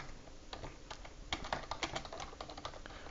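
Rapid typing on a computer keyboard during a Type Racer typing race, a dense irregular stream of close key clicks with uneven bursts and short pauses, no voices.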